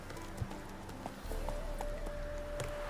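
A horse's hooves clip-clop at a walking pace in The Witcher 3 video game, a steady, fairly faint rhythm over an ambient game backdrop, with no talking.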